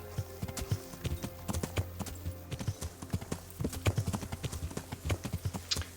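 Steady clip-clop of horse hooves trotting at an even rhythm in a video game, crisp and close, continuing throughout with no voices.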